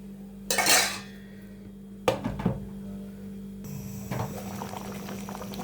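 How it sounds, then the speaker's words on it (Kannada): Capsicum butter chicken bubbles in a covered pot, with a lid clattering and metal utensils clinking against the pan, then a quiet steady simmer. "ಬೇಯ್ತಾ ಇದೆ ನೋಡಿ."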